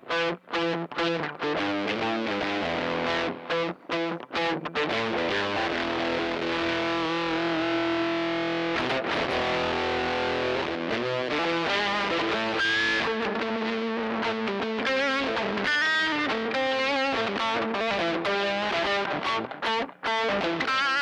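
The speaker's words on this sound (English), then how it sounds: "turn the tone up, turn the volume knob up, I mean the tone and the distortion, put on a little delay" Electric guitar played through a Little Bear Fuzz pedal with tone and distortion turned up and a touch of delay, a thick buzzy fuzz riff running continuously and loudly for the whole stretch, no voices.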